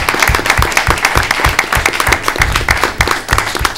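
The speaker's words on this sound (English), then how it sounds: "I just want to give you a round of applause." Audience at a town board of selectmen meeting applauds steadily, a dense, loud clatter of many hands clapping throughout with no talk over it.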